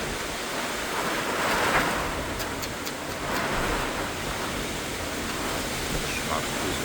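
Strong gusty wind roars steadily through a squall over Rostov-on-Don, a dense broadband rush close to the microphone that swells and eases slightly in gusts, with no clear speech over it.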